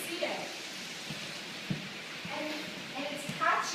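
Hail falling in Geneva, a steady dense patter and hiss heard from indoors by a window, with faint scattered voices in the background and a few louder taps and clatters near the end.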